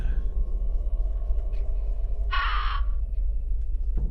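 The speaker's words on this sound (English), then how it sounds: "I hate the crow sound, man. I hate it so much." A crow caws once, a short harsh call standing out over a low, rumbling ambient drone in the horror video game Fear & Hunger 2: Termina.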